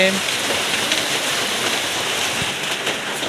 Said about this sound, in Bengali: দেখেন কি সুন্দর বৃষ্টি হচ্ছে